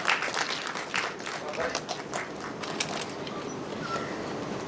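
An audience at a stage event for the launch of a new Kannada TV serial claps steadily in a dense, continuous wash of applause, with scattered voices mixed in throughout.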